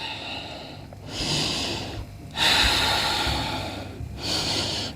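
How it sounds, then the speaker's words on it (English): Deep breaths taken during a downward dog yoga pose, several long audible inhales and exhales that rise and fall close by, with no talking. "Take 3 breaths here."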